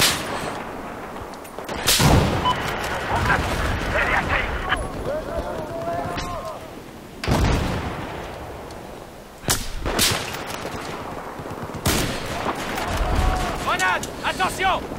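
Sharp gunshots crack repeatedly in the Battlefield 4 video game during a sniper match, loud and close, over constant game noise while players talk.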